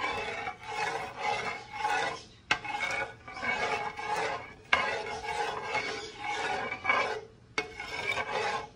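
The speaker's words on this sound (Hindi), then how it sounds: "अभी ये सब मिक्स कर लेंगे" A spoon works through ingredients and vinegar in a pan, close and steady with repeated rasping scrapes, each one briefly interrupted, and no voices.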